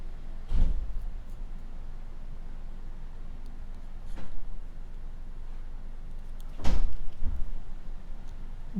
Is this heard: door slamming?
yes